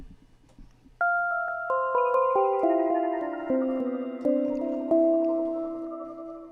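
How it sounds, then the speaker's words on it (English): Bell-like synthesizer notes step downward one after another, each ringing on and echoing through a delay so the tones overlap. "Yes, I could make a sound like this on an analog synth"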